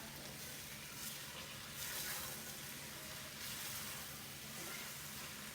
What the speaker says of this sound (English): we're just gonna stir all this up